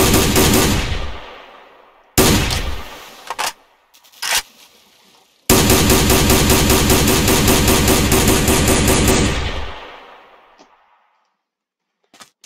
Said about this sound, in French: J'ai pris une AA12 parce que c'est l'une de mes armes préférées sur n'importe quel jeu